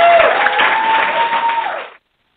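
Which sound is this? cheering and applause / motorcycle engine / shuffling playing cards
cheering and applause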